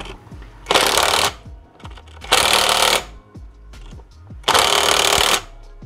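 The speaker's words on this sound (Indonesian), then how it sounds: "Terus kita impact. Kalau saya cukup 3 kali ya. Rek rek rek, udah kencang." Impact wrench tightening the rear wheel nut on a Honda Scoopy scooter, three loud close bursts of rapid hammering, each about a second long, separated by short pauses with faint background clatter.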